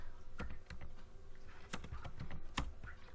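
Quiet, close clicks of typing on a computer keyboard during Excel data entry, with irregular keystrokes and a few sharper taps, like the Enter key, over faint room noise.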